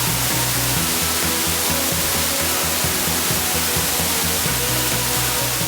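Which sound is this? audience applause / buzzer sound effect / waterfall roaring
waterfall roaring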